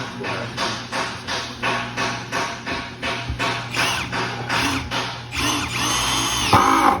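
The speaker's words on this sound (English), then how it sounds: "Run our other 2 screws in it. Go a little bit slower whenever you do it." A power drill drives screws into a wooden chair base, its motor whirring in repeated short bursts about every half second, then one longer continuous run, loud and close with no talk.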